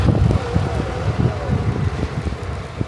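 Strong wind during a record Moscow snowstorm buffets the microphone in heavy, uneven gusts, with a low rumbling roar and no voices.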